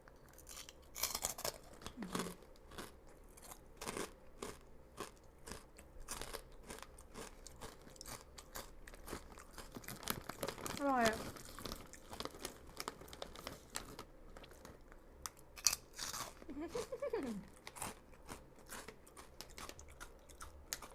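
Crispy fat-free pork rinds crunched while eating, steady close crackling bites and chewing over about twenty seconds, with bag crinkling and faint muffled vocal sounds between them.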